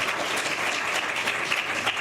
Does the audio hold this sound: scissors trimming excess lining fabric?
no